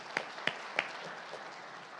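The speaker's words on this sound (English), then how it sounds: "let's give him a round of applause" Applause rises at an employee recognition ceremony in Riviera Beach as a utility district nominee is honored, a few distinct claps standing out over a steady, moderately faint spread of clapping.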